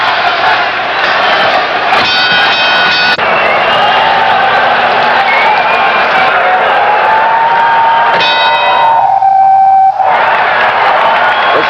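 A boxing ring bell clangs twice to end the round at the Boston Garden during Marvin Hagler vs Willy Warren, with a sustained ringing tone over a loud, roaring crowd.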